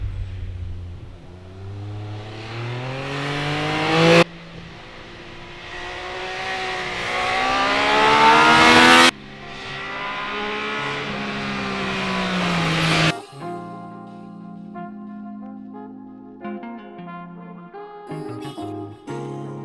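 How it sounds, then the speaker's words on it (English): Triumph Speed Triple RS motorcycle engine fitted with a new exhaust, revving hard through several rising sweeps with a raspy, throaty tone, loud and close with no talk, before settling into a lower, uneven idle. "the motor with that new exhaust sounds great. It's got a real throat to it now and rasp."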